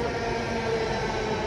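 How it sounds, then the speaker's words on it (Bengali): A Delhi Metro train runs through Govindpuri station with a steady, loud rumble and faint tonal whine, continuous and close throughout the short moment. "এই স্টেশনে একটু পরপর কিন্তু দেড় মিনিট বা এক মিনিট পরপর কিন্তু মেট্রো চলছে"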